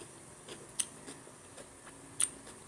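A crunchy cucumber is bitten at breakfast, giving two sharp crisp crunches amid quiet, close chewing sounds, with no talking.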